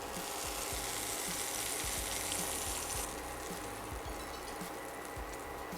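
Small chicken breast pieces fry in a pan with a dense, steady sizzle close by, softened by the occasional scrape or stir.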